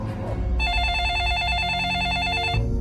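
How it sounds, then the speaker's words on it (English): A telephone bell rings in one loud, warbling burst lasting about two seconds, set over a low background murmur. "And the phone rang"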